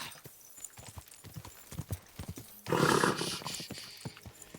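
A horse in the video game Kingdom Come: Deliverance II clops along in a run of sharp, fairly close hoofbeats, broken midway by a loud whinny before the hooves carry on.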